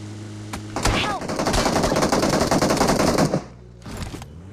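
Loud, sustained automatic gunfire from the mobile battle royale game BGMI rattles in dense rapid bursts for several seconds. A couple of single shots come before it, and it fades into quieter ambience with a last shot near the end.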